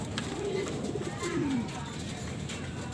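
Racing pigeons coo in their loft while being fed, two or three soft, low throaty coos close by over a quiet background.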